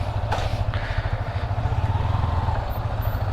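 A Yamaha R15 motorcycle engine, out on a midnight group ride, idles nearby with a steady low throbbing rumble. A faint whoosh passes early on.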